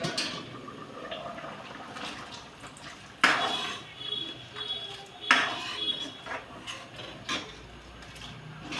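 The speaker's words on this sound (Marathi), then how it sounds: "एवढं पाणी घालून देऊ आपण." Water goes into a boiling pot of dal with brinjal, a soft splashing pour with a few sharp metallic clinks of utensil against pot and some low bubbling in between.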